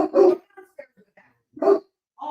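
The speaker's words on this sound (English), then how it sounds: "Barking at nothing in the hallway or looking out the window, goofy dog." A dog barks indoors in a hallway, two sharp nearby barks with softer yips and quiet noises between them.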